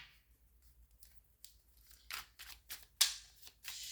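Love Oracle cards shuffled and drawn during a love reading: soft papery riffles, rustles and a few crisp snaps, quiet and close, bunched toward the end with no talking.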